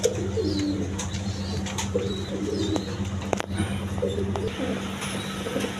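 A male Reshar pigeon coos in repeated low throaty phrases close by, kept in a loft among other pigeons, over a steady low background hum and a few sharp clicks.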